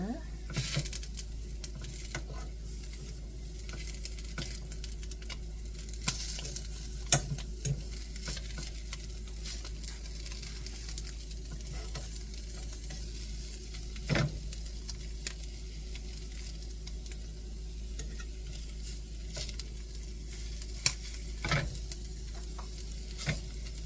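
Pork tenderloin browns in a hot pan, a steady low sizzle running throughout with occasional sharp pops and clicks from stirring or turning the meat, fairly quiet and close.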